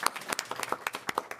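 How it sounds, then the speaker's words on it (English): A burst of applause, scattered claps from a small crowd at a city council meeting, fairly faint and brief. "round of applause"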